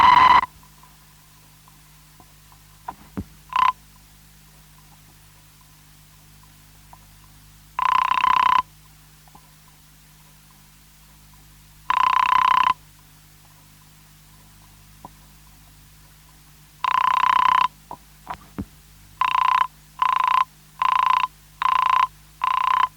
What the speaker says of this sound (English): So you hear a brief burst of this horrible noisy tone, then ringing tone and busy tone.